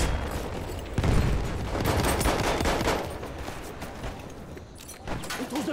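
Dense machine gun fire and scattered gunshots rattle almost continuously in Battlefield 1, loud and close with rapid bursts and booming echoes across a forest battlefield.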